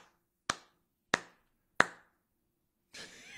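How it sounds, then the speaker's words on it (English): Three slow, evenly spaced hand claps ring out alone and close, about two-thirds of a second apart, each sharp and quickly decaying, followed by a brief burst of brighter noise at the end. "Slow clap."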